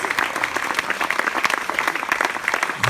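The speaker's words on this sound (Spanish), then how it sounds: "Aplaude sus manos a quien lo merece" A church congregation claps in a dense, steady burst of applause lasting a few seconds, loud and close with no voices rising above it.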